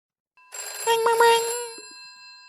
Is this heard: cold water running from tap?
no